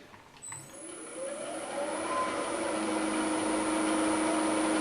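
A woodturning lathe spins up and cuts shavings from a 12-inch red oak bowl, a steady rising mechanical drone with a thin high whine, close and continuous.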